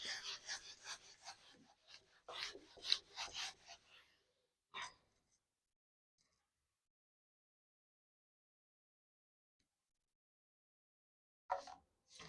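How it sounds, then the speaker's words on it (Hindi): A classroom board is rubbed with an eraser in a run of dry, scraping strokes, followed by a lone swipe. After a long silence, one more brief burst of rubbing comes at close range. "चलिए अब रब करती हूँ"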